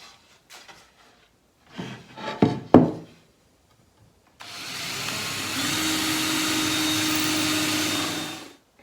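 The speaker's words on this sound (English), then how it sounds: "I've got that hole drilled where I want it" A steady, loud power tool whine runs for about four seconds after a few knocks and handling bumps, an electric drill boring into hundred-year-old elm.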